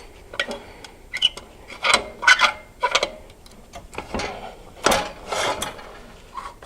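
Someone loosens, lifts and retightens the shin pad adjustment on a leg extension machine. It sounds like close-up irregular clicks, ratcheting ticks and rubbing bursts with brief pauses, and there is no speech.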